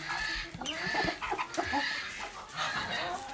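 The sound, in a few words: silkie and showgirl chickens clucking in a brood pen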